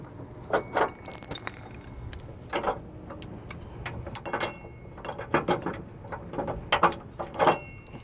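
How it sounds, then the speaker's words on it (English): Metal safety chains jangle and clink in sharp irregular bursts as they are unhooked from a Roadmaster Nighthawk All-Terrain tow bar behind a 2021 Winnebago, loud and close with no voices. "Get our safety chains off."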